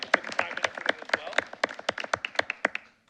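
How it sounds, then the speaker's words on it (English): A small group at a school board meeting claps steadily, sharp individual claps close by and fairly sparse, tapering off at the end. "a round of applause for them"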